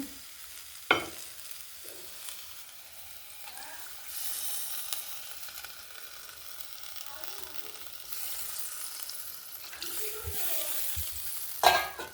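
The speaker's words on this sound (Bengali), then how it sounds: "এই যে মাখা যে ইয়েটা সিম মাখাটা এবার এই ফোড়নের মধ্যে এবার ঢেলে দিচ্ছি" Mashed flat beans frying in hot tempered oil in a village kitchen, giving a soft, continuous sizzle with occasional clinks and scrapes of a utensil against the pan, fairly quiet and without talk.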